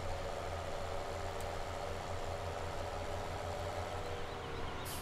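A tractor engine in Farming Simulator 17 idles at a steady mid-pitched drone, faint and continuous with no change in speed, and no voices over it.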